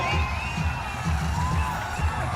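A crowd at a Navy SC versus Kandy SC rugby match at Valisara Park cheers and whoops with steady energy after a try, the noise sustained and fairly loud.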